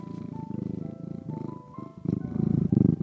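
A cat purrs close up while perched on a person's shoulder, a soft rhythmic rumbling that swells and fades with each breath over a few seconds.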